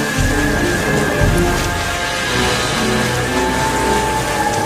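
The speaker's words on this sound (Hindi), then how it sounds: "अब की बार इतना तेज बारिश आ रही है" Heavy rain pours in a cartoon about a village flood, a constant dense hiss with a faint low rumble and a steady tone running alongside it, and no speech.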